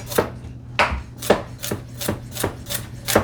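A kitchen knife chops carrots on a cutting board for chicken and rice soup, the blade striking the board in about seven sharp, evenly spaced knocks, close and clear with no talking.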